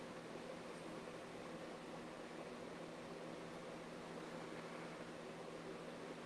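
An electric fan and an air conditioner vent blow in a hot room, producing a faint, steady broadband whoosh with a low hum underneath, constant and unchanging throughout.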